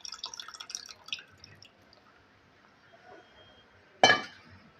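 Tamarind water, strained of its pulp, poured into a mango and drumstick curry in a pot: a soft trickle with drips and light clinks over the first second, then quiet, and a sudden louder splash near the end.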